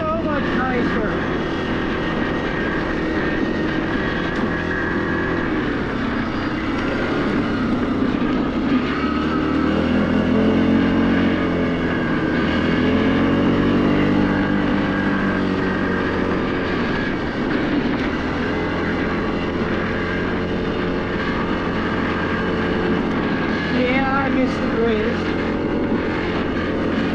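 A Yamaha Grizzly 700 ATV ridden at full throttle through pivots, its engine droning steadily and close with rising and falling pitch as the rider works the throttle, under ongoing talk.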